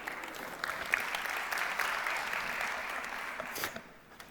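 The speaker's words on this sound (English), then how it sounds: "Give yourselves a round of applause." An audience applauds after being praised for their pottery, a steady wash of clapping from many hands at moderate volume that thins out and fades near the end.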